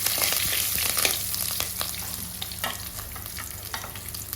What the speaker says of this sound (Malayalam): ഇതിലേക്ക് ഇനി കറിവേപ്പില, പച്ചമുളക്, വറ്റൽമുളക് എന്നിട്ട് നമുക്കൊന്ന് വഴറ്റിയെടുക്കാവുന്നതാണ്.